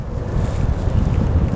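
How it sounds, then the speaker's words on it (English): A breezy wind buffets outdoors where a Jack Wolfskin tent is being pitched, a steady low rumble across the microphone with no other clear sounds and no speech. "A little breezy today."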